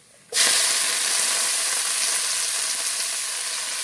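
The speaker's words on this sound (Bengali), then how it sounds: "পেঁয়াজটাকে লাল লাল করে ভেজে নেবো" Onions hit hot oil with a sudden sizzle that stays loud and steady, frying toward reddish brown in a Bengali home kitchen, with no talk over it.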